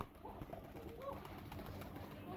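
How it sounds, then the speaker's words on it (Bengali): Pigeons being fed grit make soft, low cooing amid faint background rustle, quiet and somewhat distant for a couple of seconds. "সব কবুতর চলে আসবে এখন"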